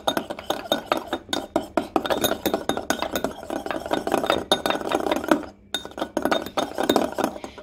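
Full cream or whipping cream being whipped in a bowl, with a steady run of quick clinking, rattling strokes against the sides, close and fairly loud, pausing briefly once.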